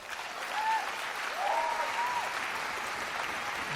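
Spectators at the 2015 English National Badminton Championships men's doubles final applaud steadily from a distance in a large hall for nearly four seconds, and a voice is heard faintly over the clapping.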